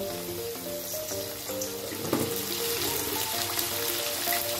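Nigella seeds hit hot mustard oil for a small-fish chorchori, giving a steady close sizzle that runs the whole time beneath tonal background music, with one brief louder flare near the middle.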